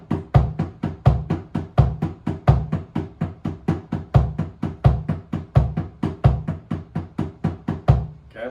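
A drum kit repeats a fill of right-hand, left-hand and kick-drum triplets followed by four single strokes, looped several times as a steady, even stream of sharp hits close up with regular low kick thumps.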